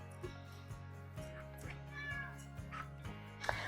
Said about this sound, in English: My little kitty is saying hi if you can hear her